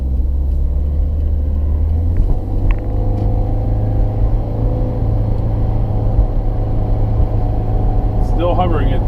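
A 2016 Subaru WRX with a CVT accelerates along a street, its steady low engine drone and road rumble continuous and close throughout, with a brief voice near the end.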